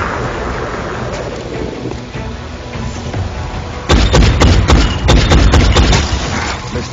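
Car blowing up in the video game XCOM: Enemy Unknown, a sudden loud burst after a steady rumbling battle ambience, followed by a rapid series of sharp crackling blasts and debris impacts.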